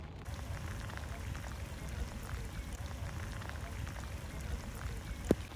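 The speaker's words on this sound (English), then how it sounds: "hide away from this rain" Steady rain falling at a wild gravel pit fishing spot in France, a continuous dense patter on a nearby surface with one sharper drip near the end and no voices.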